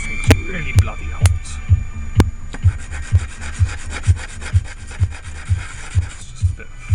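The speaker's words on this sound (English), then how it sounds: "It's just a bit of 180 sandpaper there." Hand sanding metal with 180-grit sandpaper for vintage typewriter keys, a close, rhythmic rubbing with regular strokes about twice a second over a low hum.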